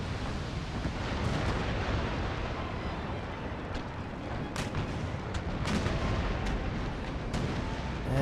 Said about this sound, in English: Rockets away again.